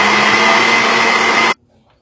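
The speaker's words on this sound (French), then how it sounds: "nous passons au mixage" An electric blender whirs steadily while mixing crêpe batter of flour and milk, a loud, even motor roar lasting about a second and a half before cutting off abruptly into near silence.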